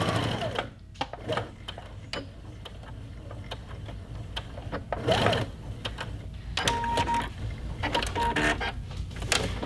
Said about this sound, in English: I'm going to enter and back stitch. I back stitch at the beginning and the end every time that I sew.